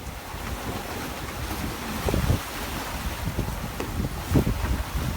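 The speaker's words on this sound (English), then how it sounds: "the wind is increasing" Strong wind buffets the microphone aboard a sailboat running at sea with a failed engine ahead of Hurricane Julia, a steady roaring rush with louder gusts and water splashing against the hull.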